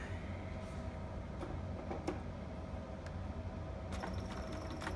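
A sewing machine straight stitches fabric for a two-piece sitter outfit, a steady low mechanical whir running throughout with faint clicks and a brief higher whine near the end.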